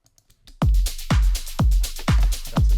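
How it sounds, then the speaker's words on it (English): Drums and kick from a track playing together: a steady four-on-the-floor kick thumping about every half second under bright, textured percussion, loud and upfront with no talking. "So if we play the drums and the kick together"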